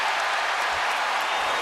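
A home crowd at a 2003 Spurs at Lakers playoff basketball game cheers and applauds in a dense, sustained roar filling the arena.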